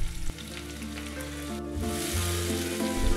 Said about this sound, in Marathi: आता पॅन किंवा प्रेशर कुकर मध्ये तेल तापवा, मग त्यात चिरलेला कांदा घाला।